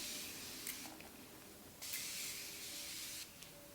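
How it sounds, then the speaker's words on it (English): Makeup setting spray misted onto a face during a wedding guest makeup routine, three short hissing bursts from a spray bottle at close range, each lasting about a second, separated by quiet pauses. "let me spray my face"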